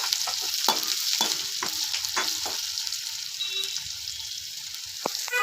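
Onions sautéing in a pan until brown for snake gourd poriyal, a close hissing sizzle broken by repeated spatula scrapes and stirs early on, then a steadier fry with no voices.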